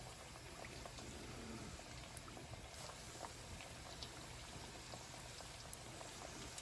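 Flour-coated spicy barbecue chicken bites deep frying in oil, a steady, quiet bubbling hiss with scattered tiny pops, continuous and unbroken.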